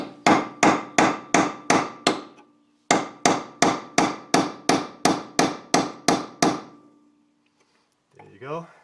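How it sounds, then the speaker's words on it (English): Hammer blows drive a chisel between a ball joint plate and a car's control arm. About two dozen sharp, evenly paced metallic strikes fall in two bursts with a short gap between them, then trail off before a brief noise at the end. "Now I'm going to try to chisel between the plate of the ball joint and where the controller arm meets"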